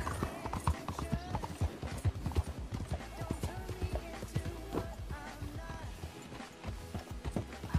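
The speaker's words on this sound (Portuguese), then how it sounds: "O cavalo tá meio arisco hoje, parece que ele não quer correr." Horse hooves beat a steady clip-clop gallop in Red Dead Redemption 2, rhythmic and close, layered with occasional snorts, tack rattle and background game sounds, with someone talking over parts of it.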